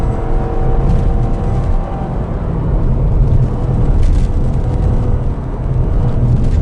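A 2009 Pontiac Vibe AWD pulls up a hill with a steady, loud low engine drone and road rumble heard from inside the cabin, with no talking.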